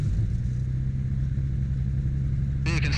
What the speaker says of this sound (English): I'll go ahead and restart the engine